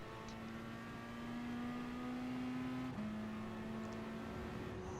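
Race cars launching from the grid in the racing game GT Sport, a steady engine drone with a sustained tonal whine that drops in pitch midway as a gear changes, loud and continuous without talk.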